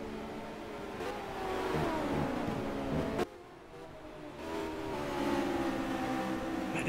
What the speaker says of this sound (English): You can hear the engine and the rev limiter get to the top as soon as they go over that little hump there.